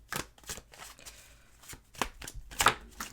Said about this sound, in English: We'll pull a few more cards.